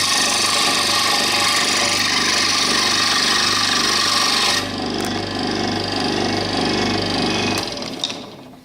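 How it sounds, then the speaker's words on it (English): A saw cuts a piece out of wood with a loud, rapid rasping buzz that runs steadily, eases slightly midway, then stops. "So if I find a piece of wood, like a big enough piece of wood, I'll try cutting out a piece."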